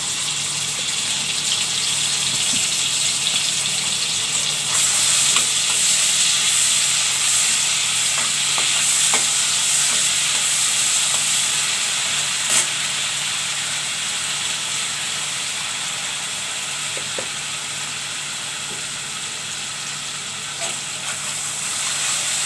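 Ginger garlic paste for chicken korma fries in hot oil with a loud, continuous hiss and sizzle, broken now and then by light stirring clicks, close and steady without speech.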